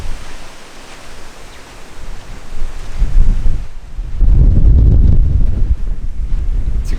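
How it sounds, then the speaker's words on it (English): Strong gusts funnelling through a bush valley buffet the microphone with deep, roaring rumble, building and surging louder midway, with no voices. "It's extremely windy in this valley here. All the wind is concentrated. It's like a wind tunnel."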